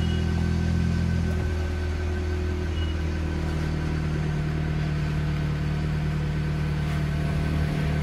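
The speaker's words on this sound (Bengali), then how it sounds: "ওকে, এই তো ইঞ্জিন স্টার্ট হয়ে গেছে" A Toyota Allion fitted with a push-button start runs at idle close by, a steady low engine hum and rumble that settles after an initial shift in tone and continues evenly.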